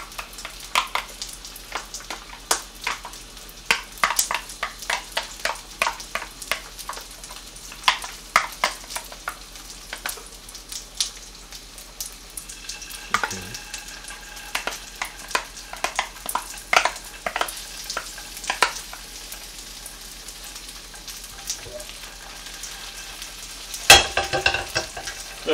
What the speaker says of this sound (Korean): 기름에 잘 자작하게 볶아줘요.